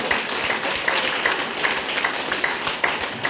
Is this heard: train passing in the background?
no